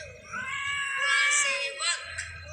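A pet cat meows in a drawn-out, wavering wail while being bathed, close and fairly loud, with faint household noise beneath and a person speaking softly nearby.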